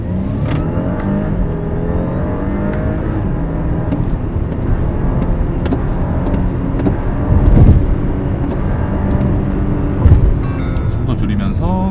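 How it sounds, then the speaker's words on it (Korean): An Audi A7 55 TFSI downshifts and accelerates hard, heard from inside the cabin as a steady engine drone that rises with two brief surges, with someone talking over it. "속도 줄이면서 기어 낮추고 급가속."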